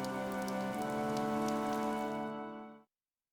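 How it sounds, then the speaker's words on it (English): Steady heavy rain falling in Fire Emblem: Three Houses, a dense continuous patter with a faint tonal hum beneath, heard alone and then cutting off abruptly to silence. "The rain is really coming down now."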